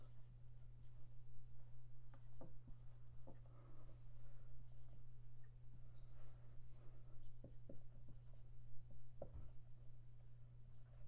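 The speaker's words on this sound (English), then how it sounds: "as I write this out" Chalk or marker strokes on a lecture-hall board, a string of faint scratchy taps and short swipes spread across the stretch over a steady low electrical hum.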